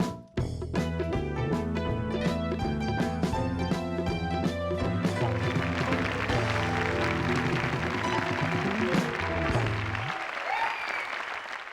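Studio audience applause welcoming guests on a television talk show, running under loud band music before the clapping continues on its own near the end.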